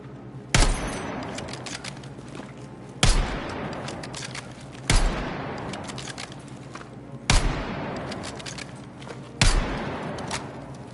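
Heavy gunshots from a Battlefield 6 match, five loud, widely spaced single blasts, each with a long rumbling tail, over a steady background of game noise.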